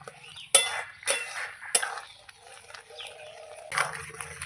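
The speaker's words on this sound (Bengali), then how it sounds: "এবার এটাকে এবার আস্তে আস্তে নাড়তে থাকবো।" A spoon stirring payesh, Bengali rice pudding with cashews, in a pot, giving a few separate scraping clinks with quiet gaps between them, close and fairly soft.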